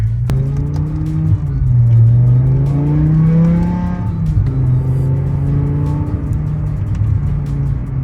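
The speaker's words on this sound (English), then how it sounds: "I don't even know if you can hear the exhaust" Low, droning exhaust of a BMW E60 M5 with upgraded exhaust, heard from inside the car, rising and falling in pitch as it accelerates, steady and loud without speech.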